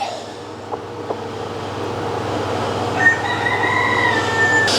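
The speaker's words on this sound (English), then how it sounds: "soaking this chicken in about 3 to 4 inches of an Epsom salt bath" A sick hen sits in 3 to 4 inches of lukewarm Epsom salt bath and gives a few brief, faint calls over a steady low background hum, with one longer vocalization near the end.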